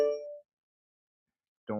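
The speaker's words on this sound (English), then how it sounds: "Don't worry about the notification." A short bright notification chime rings once at the start and fades within half a second, followed by silence before a voice starts speaking at the end.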